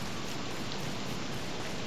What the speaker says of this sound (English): Well, I like the sound of the rain.